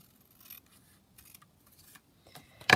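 Scissors cutting paper for a craft project, a few faint soft snips and rustles followed by one louder, close crisp cut at the end, with no talking.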